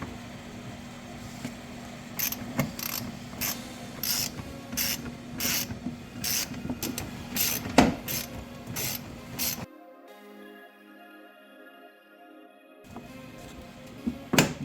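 Small bolts are worked loose from the belt tensioner of a 2015 Jeep Patriot with a ratchet, giving rapid repeated clicking strokes close by over a low hum, then a quieter pause before a few final clicks.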